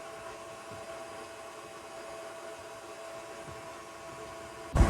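A stand mixer on speed 4 creams cookie dough for chocolate M&M cookies, a steady whirring motor drone that holds level throughout, with a louder bump at the very end.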